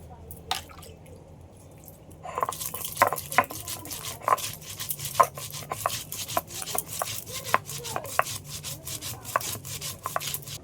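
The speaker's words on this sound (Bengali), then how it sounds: "সর্ষে বেটে নিচ্ছি সর্ষে চারটে কাঁচা লঙ্কা" Mustard seeds and green chillies being ground by hand, a quiet start giving way to repeated rough grinding strokes and scraping taps at an uneven rhythm.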